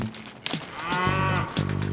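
A dairy cow gives one long, loud, close moo that swells and then trails off in a rough, pulsing tail, with no other sounds around it.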